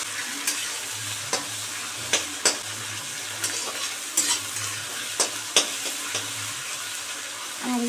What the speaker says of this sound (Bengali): পেঁয়াজগুলো আমি হালকা ব্রাউন ভাবে ভেজে নেব।